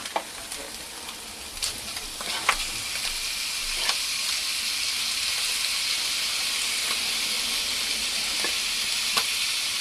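Premium steak cuts fry in a pan, a loud hissing sizzle that swells after a few crackling pops early on, then holds steady and dense with occasional spitting crackles.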